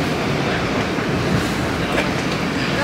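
A commuter train rolls toward Queens Village, a loud steady interior rumble with faint rail clatter filling the whole stretch and no talk over it.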